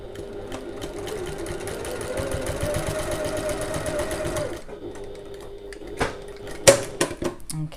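Sewing machine running steadily for several seconds while stitching the box corners of a zippered bag lining, a fast even whirring close by, then stopping, followed by a few light handling clicks and taps.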